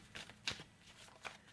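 Tarot cards are shuffled by hand in a few quick, soft riffling bursts, faint and close, with no talking during the brief shuffle.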